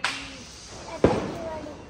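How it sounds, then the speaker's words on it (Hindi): Children set off firecrackers at a Diwali celebration, with two sharp bangs about a second apart, the second louder and closer, followed by a ringing tail. "ठीक है तो ये सारे बच्चे बम फोड़ रहे हैं।"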